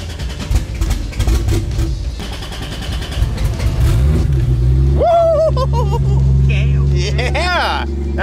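A turbocharged Toyota Supra engine with an eBay turbo kit rumbles close by, then revs sharply twice, rising and falling in pitch, with people talking beside it.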